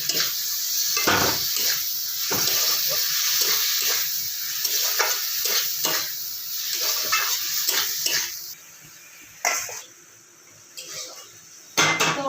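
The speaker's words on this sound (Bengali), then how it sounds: "কেটে রাখা ঝিঙেগুলো দিয়ে দেবো এর মধ্যে দিয়ে বেশ কিছুক্ষণ আমি এটাকে কষাতে চাই" Chopped ridge gourd is stir-fried with a snail curry in a pan. A loud sizzle mixes with clattering utensil scrapes, drops away after about eight seconds, then returns in short bursts.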